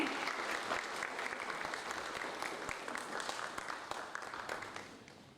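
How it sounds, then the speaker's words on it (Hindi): Audience at a World Health Day yoga event applauding in a hall, dense continuous clapping that stays fairly even before tapering off slightly at the end. "तालियां बजती रहे।"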